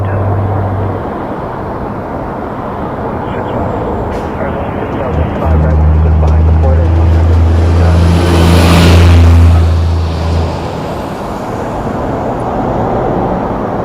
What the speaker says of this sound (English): It's Challenger 650.